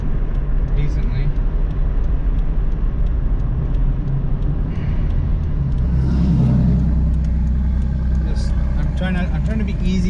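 A car with a freshly rebuilt Toyota 5FSE engine accelerates gently on a test drive, heard from inside as a steady engine drone with road noise, rising slightly in the second half.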